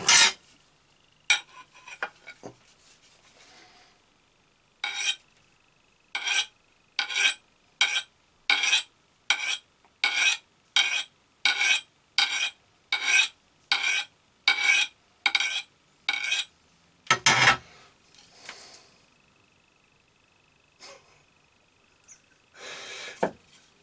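A bushcraft knife blade is drawn over a sharpening stone in about fifteen steady, evenly spaced strokes, close and fairly loud, with a few scattered scrapes and clanks at the start and end.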